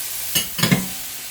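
Tomatoes dropped into a pan of frying fish sarciado: two brief close stirring scrapes with a short sizzle, then a steady low hiss of oil.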